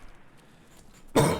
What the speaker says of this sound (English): I do apologise about my cough.